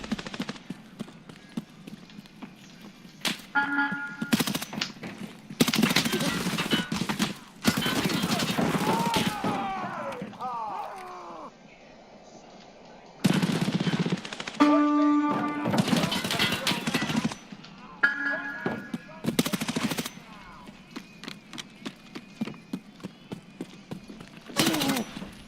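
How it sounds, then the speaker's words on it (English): Bursts of gunfire in the shooter game Escape from Tarkov, with sharp clustered shots and sustained volleys coming in several loud stretches, separated by quieter gaps filled with movement and background noise. "My team is always fucking shooting me, bro."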